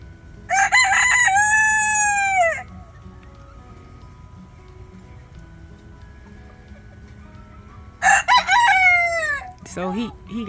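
Several roosters crow loudly nearby in two long bursts, one near the start and another after a quiet stretch, with a voice heard faintly near the end.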